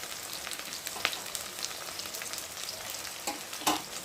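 Onion sizzles and crackles steadily in hot oil in a pan for a Bhola fish curry, with a few sharper pops and spatters standing out over the continuous frying hiss.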